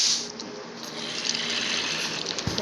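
Water poured from a bucket in Minecraft makes a steady rushing splash, close and fairly loud, running continuously for a couple of seconds.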